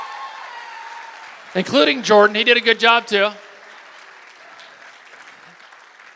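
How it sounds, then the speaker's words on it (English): A dinner audience at the 2023 Dancing With The Piqua Stars show applauds the dancers with a steady round of clapping throughout. Someone speaks briefly over the clapping in the middle. "Let me have another round of applause for everybody up here."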